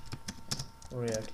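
Quick keystrokes on a computer keyboard tap out several close, crisp clicks in a short run, with a brief voice-like tone coming in near the end.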